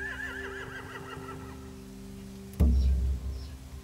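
A horse whinnies with a wavering, shrill neigh in the game The Walking Dead: The Final Season, followed by a low snort and thud, against a steady background hum.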